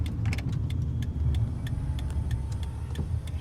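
Inside a car, the air conditioning clicks on with a series of sharp, close ticks over a steady low engine hum, with no talking.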